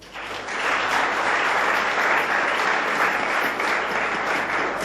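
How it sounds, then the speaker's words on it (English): A stage audience breaks into applause that swells within the first half second and then holds as a dense, even patter of many hands, fairly loud and with no talking over it. "I absolutely invite people and request them to give them one applause."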